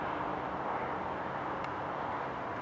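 A steady, broad roar of road traffic carries from a distance, a constant wash of noise with no distinct vehicles standing out.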